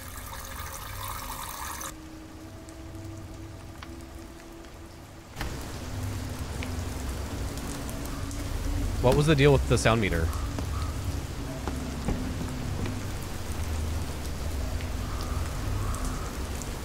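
Steady rain pattering in the horror video game Fears To Fathom, a continuous soft hiss of drops on surfaces that swells after a few seconds, with a person talking over it midway.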